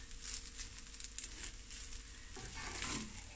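Garlic and chilli prawns with spring onion stir-frying in a hot pan, a steady quiet sizzle with occasional crackles and a stirring scrape near the end.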